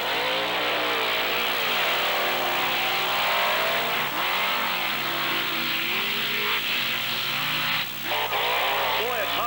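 Monster trucks race down a beach sand drag strip, engines revving hard and wavering in pitch, loud and continuous, with an announcer talking over the roar and a brief dip near the end.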